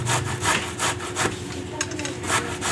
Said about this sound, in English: Last night I soaked the grain with my sourdough, and I'm grating the zucchini.